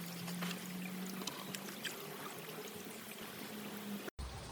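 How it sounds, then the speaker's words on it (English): Water and young steelhead fish are gently poured from a bucket, a continuous splashing, gurgling pour that runs for several seconds before stopping abruptly. "Now I'm just going to take the bucket and I'm going to gently pour these in."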